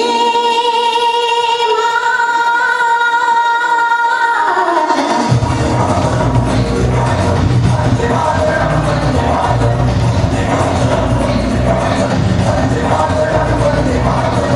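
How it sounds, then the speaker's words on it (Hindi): Music at a school annual day function fades after about five seconds. Loud, sustained audience applause follows with scattered whoops and shouts, filling the rest of the clip. "जोरदार तालियां बजाए"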